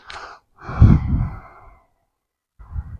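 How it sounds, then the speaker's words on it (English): Breathy puffs of air blown close into a wireless microphone, a long gusty rush followed by a shorter one after a pause, with no talking. "blowing into the microphone there"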